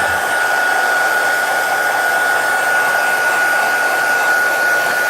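A heat tool blows loudly and without a break to dry ink on a coloring page, a close, steady, high whooshing roar with a faint whine running through it.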